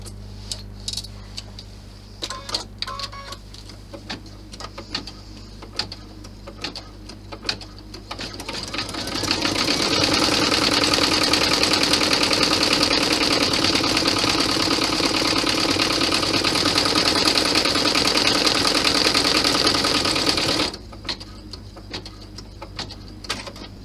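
Embroidery sewing machine stitching a golf ball bag flap held in a hoop, a fast steady mechanical whir and ticking that starts after a few soft clicks and runs for about ten seconds before stopping abruptly.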